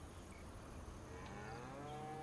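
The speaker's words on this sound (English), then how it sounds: "Cows." Cattle mooing in the farming game Farming Simulator 25, a drawn-out low moo rising over a steady ambient farm background, alone without talk.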